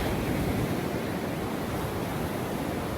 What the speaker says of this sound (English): hopefully you're listening to the rhythm of this water